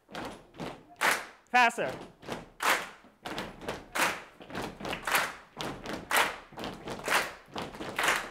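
A group stomps their feet in a steady rhythm that gradually speeds up, producing repeated dull thuds, with a voice calling out over them.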